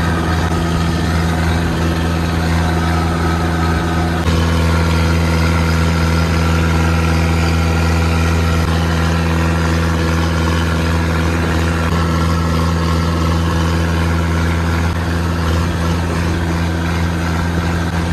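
Tractor engine idling steadily while backing up, a loud, constant low diesel throb with a mechanical drone and no change in pace, running alone without any talk over it.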